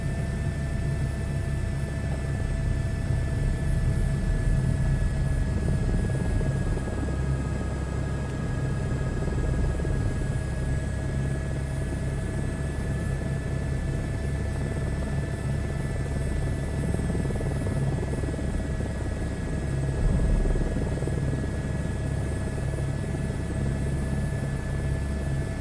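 An H125 helicopter in a flight simulator game, its engine and rotor holding a steady, loud droning hum with a high whine on top, unbroken for the whole stretch and without talk.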